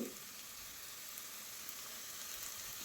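Dal curry being tempered in hot coconut oil gives a steady, close sizzle, a dense crackling hiss that runs evenly through the whole moment with no talking.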